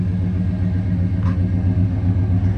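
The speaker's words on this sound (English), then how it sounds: "Got the dual exhaust on there." A 1976 Chevrolet Caprice with an original 400 transmission idles through its dual exhaust, giving a steady, loud, low rumble that holds even across the whole stretch with no voices.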